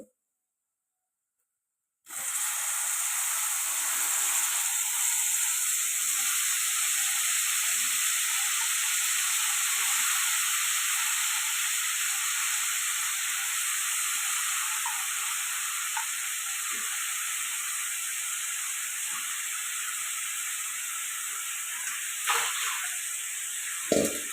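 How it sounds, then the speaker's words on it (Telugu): Cauliflower and potato pieces fry in a pan with a steady, close sizzle and hiss that runs nearly unbroken. No one speaks over it. "ఇవి ఇప్పుడు ఫ్రై అయిపోయాయి కదండి"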